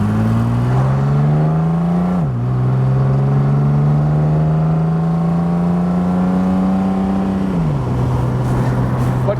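A 1970 Mercedes 280SL with electronic ignition and rebuilt fuel injectors cruises along country roads, its engine a loud, steady close drone that drops pitch at two gear shifts and climbs again.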